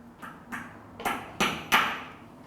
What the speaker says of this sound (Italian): col vero attrezzo del mosaicista si procede a spaccare a metà i ciottoli